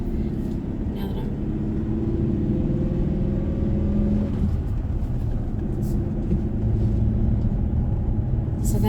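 2020 Great Wall Steed twin-cab ute with 2.4L petrol engine and 5-speed manual, cruising in third gear at about 40 km/h, a loud steady engine drone with road rumble and a brief pitch shift midway.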